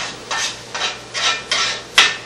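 A spatula scrapes chicken gravy off the bottom of an old frying pan in five short, rasping strokes at a steady rhythm, close and fairly loud, with no talk.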